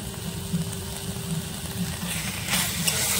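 Chicken filling stir-fries in a pan for a stuffed snack roll, giving off a steady, moderately loud sizzle that swells slightly near the end, with no talking.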